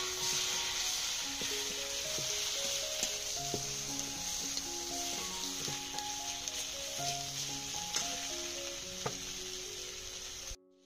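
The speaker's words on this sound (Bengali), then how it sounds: "এবারে মশলাটা ভালো করে ভেজে নেব।" Ground cumin, coriander, chili and turmeric fry in hot oil for a banana-flower dhoka curry, giving a steady, close sizzle with occasional stirring clicks, accompanied throughout by soft background music with no talking.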